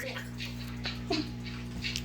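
An indoor cat playing with a feather from an old feather boa gives a few brief cries amid rustling, over a steady background hum during a house clean-out.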